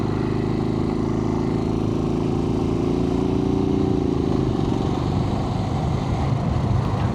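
Suzuki TU250X single-cylinder motorcycle pulling away in third gear: a steady, lugging mid-pitched engine hum that labors and slowly builds, close and continuous with no talking.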